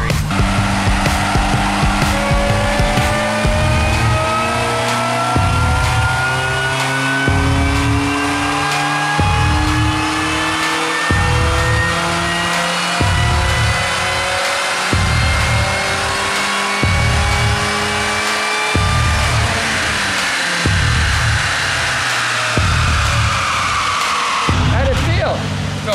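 A supercharged 2005 Chevrolet Cobalt SS with the LSJ engine revs on a dyno, loud and close, its pitch climbing in repeated stepped pulls across the run, with people talking over it.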